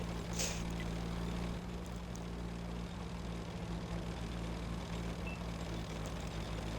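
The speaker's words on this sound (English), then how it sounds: "The engines sound pretty weird." Tank engines in a late-night tank video game, a steady low droning rumble with a constant hum that runs loud and unbroken throughout, with no voices over it.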